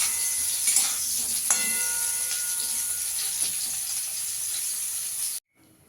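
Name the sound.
potatoes frying in oil in a pan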